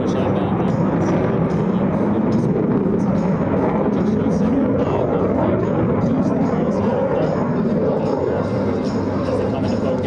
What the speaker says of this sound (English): note just how quiet the aircraft becomes as it passes by at nearly 500 miles per hour